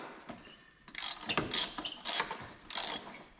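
A ratchet clicks in three distinct bursts while loosening a 13 mm battery hold-down bolt on a Chevrolet Impala SS, close and clear with short pauses between strokes.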